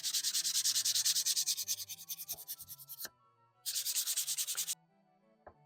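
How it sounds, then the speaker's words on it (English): Two bursts of rhythmic light hand sanding on a wood inlay game board, quick back-and-forth strokes close up, separated by a brief pause and some quiet tapping. "I'm going to give this a light sanding to get rid of some of the pencil lines."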